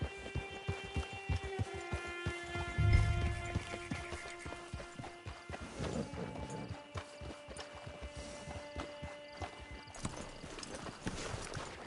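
Horse hooves clip-clop in a steady trotting rhythm in the video game Red Dead Online, with distinct, fairly close hoofbeats running throughout. A short neigh and faint background game music sit under the hooves, and no one speaks.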